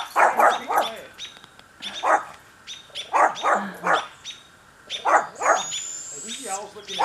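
A dog barks repeatedly in short clusters, fairly close, with pauses between bursts and a whimpering yip near the end, reacting to barred owls in a garden on Salt Spring Island, Canada.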